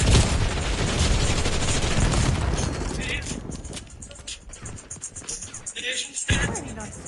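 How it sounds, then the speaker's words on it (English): A frag grenade bursts amid rattling gunfire in Call of Duty, with dense, noisy shots at first, then sharper scattered cracks and a loud late blast, under game voice lines. "Throwing frag."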